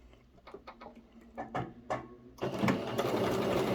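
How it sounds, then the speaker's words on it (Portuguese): A sewing machine stitches around a double-sided placemat cover, starting with a few slow, spaced clicks that build into a steady, continuous whir close by. "Eu vou deixar aqui, então, a minha abertura e vou iniciar a costura."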